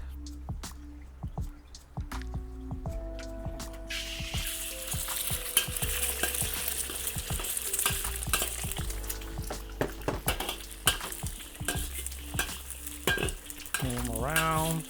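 Eggs fry in a wok with a continuous crackling sizzle, while a utensil scrapes and stirs in frequent sharp clicks; the sizzle swells louder after a few seconds and stays busy to the end.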